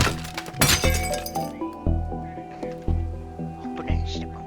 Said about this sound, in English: Destroy the window.